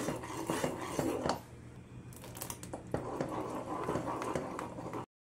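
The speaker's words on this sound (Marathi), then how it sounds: "उकळी येईपर्यंत हलवत राहायचं।" A spoon scrapes and clinks against a pot while kadhi is stirred on the stove toward a boil, quiet irregular metallic taps and rasps with brief pauses, no talking.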